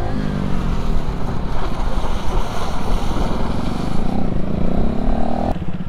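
KTM Duke 250 motorcycles on a group ride, engines revving together in a loud, steady, throaty drone that holds without pause, with rushing wind noise over it.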